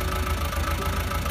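A fully modified 10x36 tractor idles in Farming Simulator 20, a steady low engine drone with a faint knocking pulse, continuous and alone.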